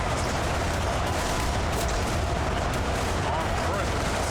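Dense, unbroken gunfire and artillery roar from a huge D-Day battle simulation game pitting vast blue and red armies, a constant wall of overlapping shots with no pauses and no voices.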